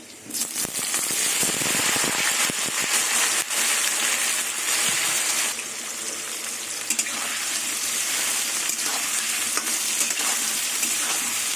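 Young jackfruit pieces frying in hot salted oil in a pan: a loud, steady sizzle with dense crackling and popping that runs throughout, with occasional scraping as the pieces are stirred.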